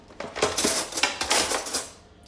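Close rattling and clinking of metal cutlery as a knife is picked out of a utensil drawer in a home kitchen, a quick jangling flurry of several bright clinks lasting about two seconds.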